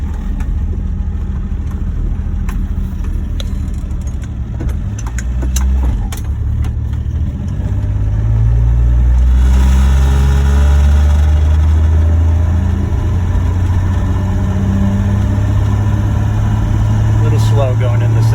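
A 1966 Dodge Dart GT with a Super Six two-barrel setup drives along, its engine droning and rising in pitch through gear changes, with a louder, deeper pull building toward the end.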